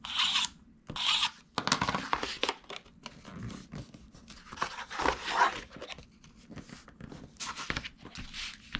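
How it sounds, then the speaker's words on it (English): Tape runner laying adhesive along paper foldovers for mini notebook party favors, heard as close, quiet scraping rasps and crinkly paper rubs in short irregular strokes, with handling noise in between. "I'm going to use my tape runner to do my foldovers"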